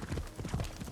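Horse hooves clip-clop at a steady trot while riding in Assassin's Creed Shadows, a short, close run of rhythmic thuds.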